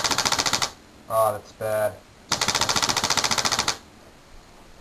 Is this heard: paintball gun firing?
yes